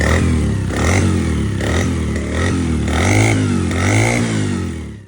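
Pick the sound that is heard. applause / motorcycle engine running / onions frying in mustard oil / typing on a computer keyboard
motorcycle engine running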